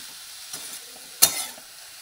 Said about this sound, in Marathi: परत हे 1 मिनिटासाठी असं मिक्स करून घ्यायचं छान असं।